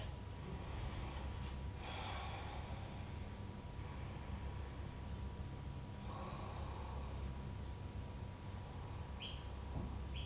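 Slow, deep breaths during a morning yoga practice, faint and close, with a few soft airy inhales and exhales spaced several seconds apart over a quiet background hiss.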